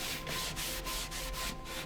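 Annie Sloan Chalk Paint clear wax being rubbed onto painted furniture: a steady, close, dry rubbing scrape in rhythmic back-and-forth strokes, with no voices.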